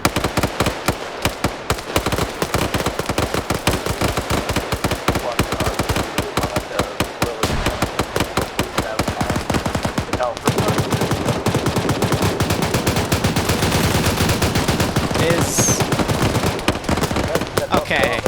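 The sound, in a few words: gunfire in a video game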